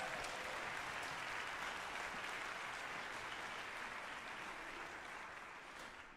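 Concert audience applause in an auditorium before a symphonic band and wind symphony performance, a broad, sustained wash of clapping from a large crowd, fairly distant, fading slightly at the end.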